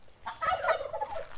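Turkeys gobble in a quick, rippling burst on a farm alongside chickens and sheep, the calls fairly close and lasting about a second with no talking over them.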